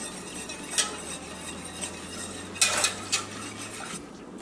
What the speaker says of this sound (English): make sure you're whisking consistently because you don't want the milk to burn.